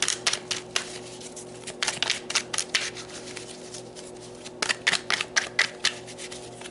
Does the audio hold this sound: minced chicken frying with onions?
no